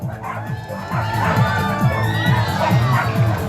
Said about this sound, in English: Cheer on Bravo.